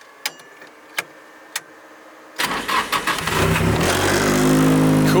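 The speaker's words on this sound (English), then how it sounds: "cool push start" A Toyota AE86 is push started: a few sharp clicks and knocks, then the engine catches with uneven sputtering bursts before settling into a loud, steady rumble close by.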